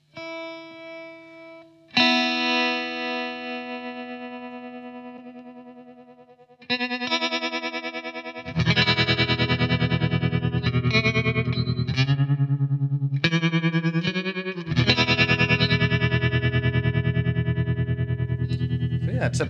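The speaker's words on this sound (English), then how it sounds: "it's a pretty deep sounding tremolo on there" Electric guitar through a Blackstar AMPED floorboard amp with a deep tremolo engaged, sustained notes and chords pulsing in steady waves, first a clean ringing chord, then louder strummed passages that stop and restart.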